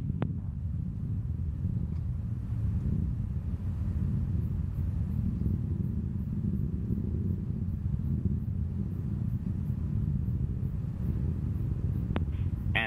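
NASA carbon satellite launch vehicle with three solid boosters climbing, a steady deep roaring rumble that stays dense and unbroken throughout, heard from afar with occasional faint clicks on top.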